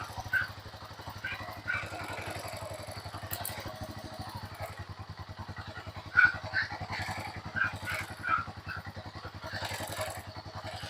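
A TMX Alpha 125 motorcycle engine with a charging fault runs at a steady idle close by, with rapid putt-putt pulses and occasional metallic clatter and tapping.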